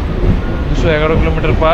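A Howrah–Purulia MEMU local train runs along, a loud continuous rumble of wheels and carriage noise with someone speaking over it.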